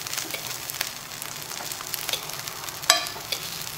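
Courgettes frying in a pan with a steady crackling sizzle and occasional stirring clatter, one sharper utensil knock near the end.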